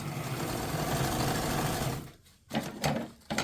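A sewing machine stitches quilt crumb strips in a fast, steady close whir for about two seconds, then stops and restarts in short uneven bursts.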